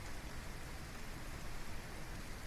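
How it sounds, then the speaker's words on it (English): Steady rain hisses evenly and softly in the visual novel Omega Pattern, a broad continuous wash of noise with no voices or other sounds. "I can only hear the sound of the rain."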